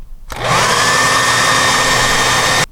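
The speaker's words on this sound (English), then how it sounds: "that's where the hairdryer still comes in handy" A hair dryer blows into an RV freezer to defrost it, a steady, loud whooshing rush that starts abruptly, holds even for about two seconds and then cuts off.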